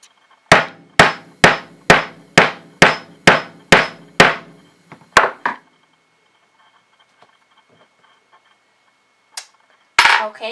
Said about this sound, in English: taking my rubber mallet, there you have a nice clean hole